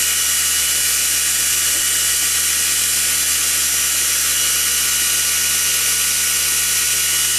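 A rewound 750W Bosch electric motor runs steadily with a dense, even whir and a buzzing hum that holds a constant pitch and loudness throughout, with no voices.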